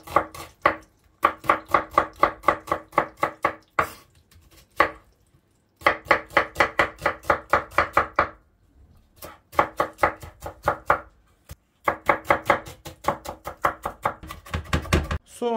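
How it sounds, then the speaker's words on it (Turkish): Rapid, rhythmic knife chops through onions on a cutting board in quick bursts, crisp and close, with brief pauses between runs of strokes. "Soğanlarımızı da doğruyoruz."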